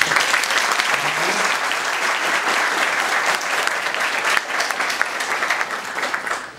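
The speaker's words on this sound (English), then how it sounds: "Let's once again clap." Loud, continuous clapping from a crowd, dense and even throughout, with a voice briefly audible beneath it.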